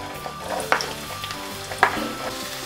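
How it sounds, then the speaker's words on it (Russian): Chopped onion frying in vegetable oil in a pan, a steady close sizzle broken by two sharp scraping stirs of a utensil. "Лук будем обжаривать до мягкости."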